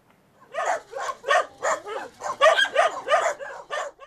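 Dogs at a shelter for disabled stray dogs bark in a quick series of about ten sharp, yelping barks, fairly close and clear against a quiet background.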